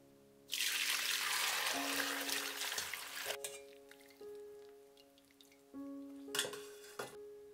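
Momo soup broth being poured and strained through a filter, a rushing stream of liquid in bursts with dripping and ringing clinks of the vessel between pours, close and fairly quiet.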